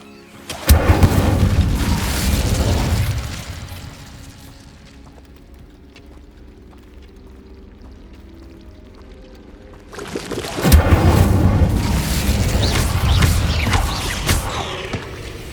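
Bombarda and Incendio spell blasts in Hogwarts Legacy, two loud rumbling bursts of explosion and roaring fire separated by a quieter lull of low ambience.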